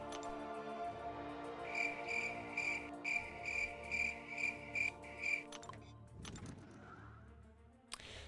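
Crickets chirp in short, regular pulses as a sound effect, clear and fairly close over a faint background hum before fading out.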